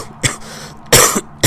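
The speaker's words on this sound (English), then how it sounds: "That was a hell of a cough I just had there." Three sharp, loud coughs from a nearby person, spaced apart with short quiet gaps between them, heard alone without talk.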